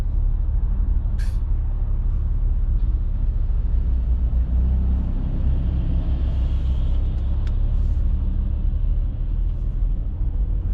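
A Porsche 992 on the road, its low engine and tyre rumble droning steadily and loud throughout with broad road noise, no voices.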